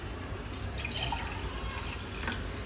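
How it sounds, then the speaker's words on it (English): Water poured into a glass at a ninth-grade school science exhibition, a soft, faint, continuous trickle and splash lasting a couple of seconds against a steady background hiss. "pour this water in this glass"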